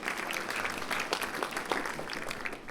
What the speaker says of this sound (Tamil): அந்த சகோதரி கைத்தட்டுறாங்க